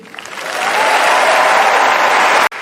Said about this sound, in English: I'm sure you'll all agree that deserves another round of applause for Team Bean.